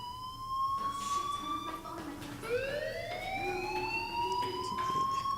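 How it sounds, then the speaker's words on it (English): Fire alarm in the Life is Strange video game, a rising and falling electronic siren wail with sweeping tones, steady and fairly loud against a low background hum. "Hey, do you hear that fire alarm?"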